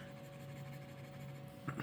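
Fountain pen loaded with De Atramentis Hyacinth scented ink writing on Tomoe River paper: a faint, steady scratch of nib on smooth sheet under a low background hum, with a couple of slightly louder strokes near the end.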